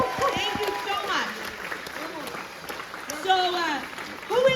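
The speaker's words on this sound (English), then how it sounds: "So please, everybody, give Shane a big round of applause." A rally crowd applauds at a political campaign rally, steady clapping running under loud cheering and voices throughout, swelling near the end.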